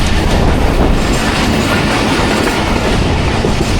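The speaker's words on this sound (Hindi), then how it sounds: "थ्रू हमारी ट्रेन जा रही है" A passenger train running from Rawalpindi to Wazirabad roars along the rails on a rainy early morning, loud and continuous with steady clickety-clack from the wheels.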